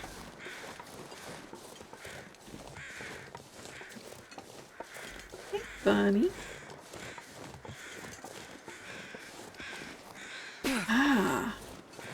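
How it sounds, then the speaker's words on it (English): Crows caw twice, one call about midway and another near the end, standing out over a quiet, faintly rustling background while a voice speaks briefly. "I hear crows."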